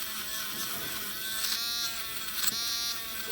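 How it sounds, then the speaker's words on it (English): Steady high-pitched whirring buzz of a wire wheel spun by a rotary tool polishing a Corgi Juniors VW hotrod toy car, continuous and close with slight surges as it presses against the metal. "I don't just give it the wire wheel"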